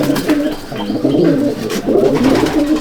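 Pigeon from a competition racing loft cooing in repeated low, throaty rolling phrases, close and fairly loud, with faint background noise and no talk.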